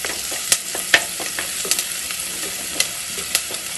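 Chili powder and curry leaves sizzle in hot oil for a Kerala-style fish curry, a steady fry hiss broken by a few sharp stirring clinks of a spoon against the pan.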